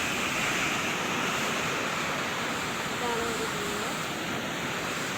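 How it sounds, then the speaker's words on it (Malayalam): Rushing water from a waterfall, a loud, steady broadband roar filling the whole stretch with no breaks. "വെള്ളച്ചാട്ടത്തിൻ്റെ നല്ല സൗണ്ട് ഒക്കെ ഉണ്ട് നല്ല സൗണ്ട് ഉണ്ട്"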